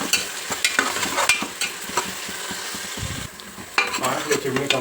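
Onions salted and frying in a pan for mutton curry crackle and sizzle steadily up close, with stirring scrapes and clinks over the hiss.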